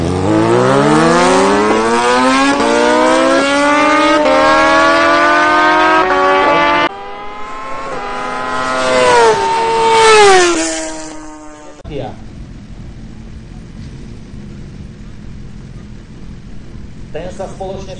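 A Suzuki GSX-R 1000 R sport motorcycle rated at 138 kW revs hard at a drag race start on a large concrete lot, its engine climbing steeply through several gears up close before cutting off abruptly.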